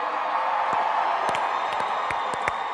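A large live event audience from the Americas cheering and whooping, a broad sustained crowd roar with scattered claps and shouts, fairly distant and continuous.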